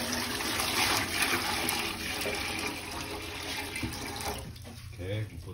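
Water runs steadily into a food truck sink and down its drain during a line test, a continuous broad rush with gurgling toward the end.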